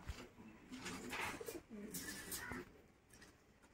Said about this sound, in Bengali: এটা হচ্ছে মাদি পায়রা, এই জোড়াটা।